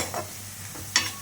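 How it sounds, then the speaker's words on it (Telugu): Onions fry in hot oil with a soft sizzle while being stirred, two brief scraping bursts standing out over the steady frying. "ఎర్రగడ్డలు ఎర్రగా వేగాయి"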